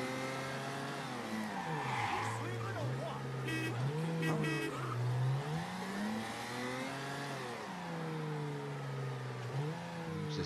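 Car engine revving and shifting pitch as a vehicle drives and skids in the video game Mafia 3, with tire squeal over a steady motor drone, and someone talking over it.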